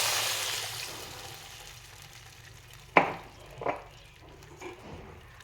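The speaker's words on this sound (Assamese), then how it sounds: "এতিয়া ইয়াতে উতলা পানী দি দিছোঁ।" Hot water poured into a hot pan while cooking a spiced potato dish, with soft sizzling that fades, then a few sharp bursts of hissing and stirring clatter, fairly quiet and without speech.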